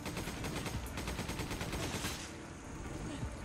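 Dense, loud gunfire in Resident Evil 5, a rapid rattle of shots filling most of the stretch before easing off near the end, with background game noise.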